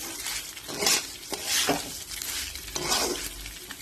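A rice mixture for pulao fries with ginger paste in a pan, with three rhythmic swells of stirring and scraping over a sizzle, plus light clinks of the utensil against the pan and no speech.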